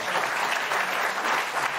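A studio audience at a late-night television talk show breaks into steady, loud applause that fills the whole moment, dense clapping with no voices on top.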